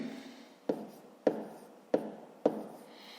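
A pen writes numbers in a notebook during a fifth-grade maths exercise, making four quiet, evenly spaced taps or strokes in a near, otherwise hushed room.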